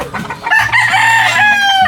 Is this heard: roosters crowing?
yes